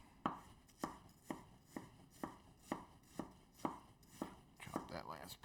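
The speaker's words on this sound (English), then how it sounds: "chop that last piece up nice and small" A knife chops an onion on a cutting board, about ten evenly spaced, crisp thuds close to the listener, quickening into a faster flurry of cuts at the end.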